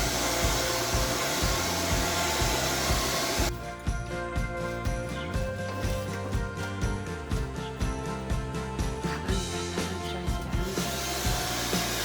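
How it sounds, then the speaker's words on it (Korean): A comb-shaped hair dryer blows steadily while drying a bride's hair during braiding, a loud continuous whoosh with rapid rhythmic scratchy pulses as it is combed through the hair, running alone throughout. "머리를 다 감고 드라이로 말리고 있어요. 이 드라이기가 빗처럼 생겨서 빗을 빗어주면서 드라이를 하네요."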